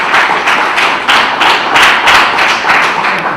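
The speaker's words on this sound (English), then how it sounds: "Let's give her a round of applause." Applause from the audience at an exercise science research symposium, a steady wash of many hands clapping together, moderately loud and fairly near, with no voices over it.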